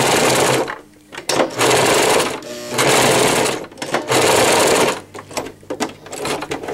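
A sewing machine stitches elastic onto a cloth pocket diaper in loud, close bursts of rapid whirring, starting and stopping several times with short pauses between runs.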